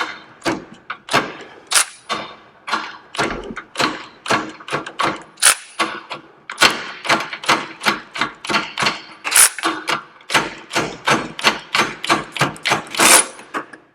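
A Milwaukee M12 Fuel 3/8 ratchet, model 2557, is worked by hand in a rapid series of sharp, close clicks and clacks in uneven bursts, loud and distinct throughout with no talking.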